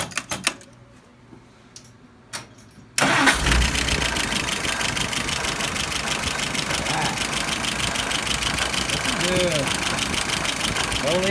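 Mike's YS 37SA engine, apparently a tractor, fires up abruptly after a few quiet seconds of handling noise, then settles into a steady, loud, even idle around 700 rpm that runs continuously to the end.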